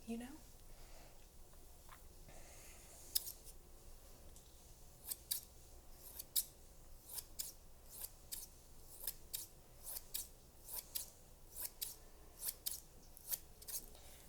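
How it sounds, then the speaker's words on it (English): Quiet, repeated snips of ordinary office scissors cutting hair, crisp metallic cuts in an uneven rhythm that quicken toward the end, with soft background noise. "these regular, run-of-the-mill Office Max scissors"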